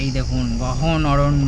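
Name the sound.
crickets chirping in a dense forest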